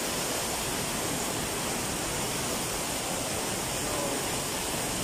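Strong, fast-flowing water in Sison, Philippines rushes as a loud, constant broadband roar, like a close waterfall or torrent, steady throughout with no talk.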